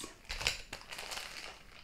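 Close, quiet crinkling and crushing of a thin plastic bag in short handling bursts, alone without speech.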